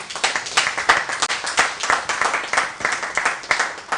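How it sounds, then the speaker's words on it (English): Audience applause at a motivational youth event, a steady wash of many hands clapping, fairly loud and continuous with no speech over it. "Please, more clap for him."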